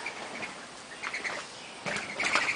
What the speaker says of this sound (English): Ooh, pigeons.